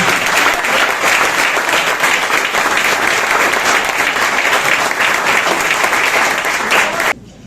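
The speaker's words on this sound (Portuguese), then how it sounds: "Você pode aplaudir o Senhor Jesus por isso?" A church congregation claps together in loud, dense, sustained applause that cuts off abruptly near the end, with no voices over it.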